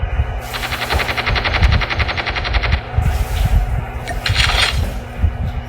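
Rapid automatic gunfire in the mobile shooter Call of Duty Mobile, a long burst of fast repeated shots followed by shorter volleys, loud and close over a rumbling game background.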